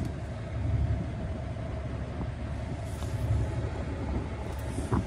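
A powerful truck engine with turbochargers idles in a steady low rumble, moderately loud and continuous with a few faint clicks over it.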